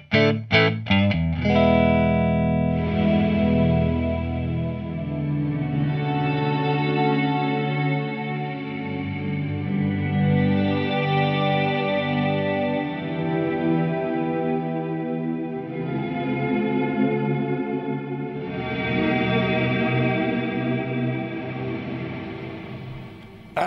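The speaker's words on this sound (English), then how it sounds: "That's a lovely sounding reverb." An Erica Synths Nightverb reverb module washes a synth tone into a lush, sustained tail, with a few quick opening notes blooming into long, shimmering, chorused layers that swell and shift throughout.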